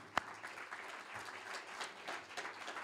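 Applause from an audience at a student idea-pitch event, a steady moderate patter of clapping with one sharp loud clap near the start, continuing evenly throughout.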